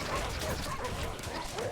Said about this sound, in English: look at these war dogs absorbing a lot of this pierce DPS